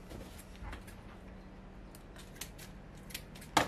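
Scissors snip through the root of a young tomato plant, a few soft cuts under faint outdoor background noise, with a sharper, louder snip at the end.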